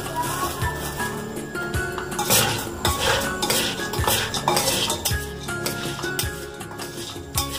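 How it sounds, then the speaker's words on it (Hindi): Metal utensils clinking and scraping against a pot or pan while mava gutka ingredients are mixed, a busy irregular run of clatter and chinks close by, with no talk. "अब इन सब चीजों को अच्छी तरीके से मिक्स कर लेंगे"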